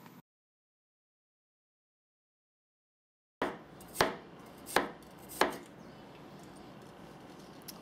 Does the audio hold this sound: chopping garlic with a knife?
yes